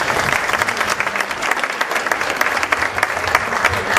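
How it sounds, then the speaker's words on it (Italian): An audience at an Italian evening cultural event applauds broadcaster Tonino Raffa, a dense burst of close, crisp claps lasting about four seconds. "Un applauso a Tonino Raffa."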